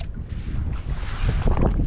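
Gusty wind roars across the microphone on a fishing boat off Galveston, a loud, continuous buffeting rush with water sloshing underneath and no voices.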